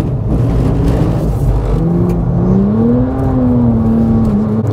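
A Porsche 911 GT3 slows under braking on a cold, wet track, its engine note loud and close, dropping and rising in pitch with a whirring drivetrain, no talking.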